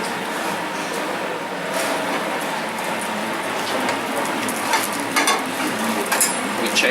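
Chunks of lamb rump searing in a lightly oiled pan, giving a steady, close hiss and crackle with a few sharper pops, no talking.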